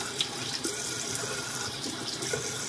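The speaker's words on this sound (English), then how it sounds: "I'm simply going to splash water on my face until it's gone." A bathroom tap runs steadily into a sink while water is splashed onto a face, a continuous close rush of flowing water with faint splashes and no talking.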